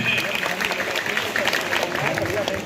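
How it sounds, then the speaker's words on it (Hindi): Continuous crowd clapping fills a Gandhi Jayanti gathering at a rural intermediate college, steady applause blended with talking and background voices. "इंजीनियर बनना चाहते भाई, तालियां एक बार जोर से।"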